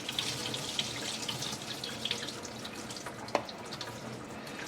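Water pours steadily from a pot of rinsed peas, split peas for dhal, into a kitchen sink, a continuous close splashing rush with a few sharper drips and no talking.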